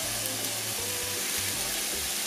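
Mushrooms and cherry tomatoes sauté in a tablespoon of oil in a saucepan for a vegan ackee dish, giving a steady, close sizzling hiss with a soft, low bubbling underneath.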